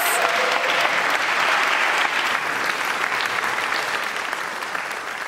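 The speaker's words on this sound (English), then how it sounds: "Let's give him a round of applause." A room full of people at an annual meeting applauding, dense steady clapping that tapers slightly toward the end.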